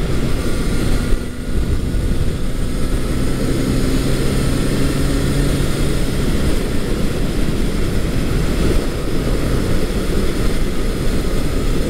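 A Honda CB750 motorcycle engine runs steadily with a loud, close, rumbling drone under strong wind buffeting, its note holding even throughout.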